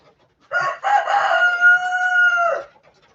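A single rooster crows loudly and close by, one long drawn-out cock-a-doodle-doo lasting about two seconds.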